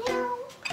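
A human voice imitates a cat's meow in a single short, drawn-out tonal call that rises and falls, close and clear, with no other speech around it.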